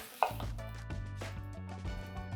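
A knife slices through half of a red onion in a kitchen, one crisp chop at the start followed by background music with no talking.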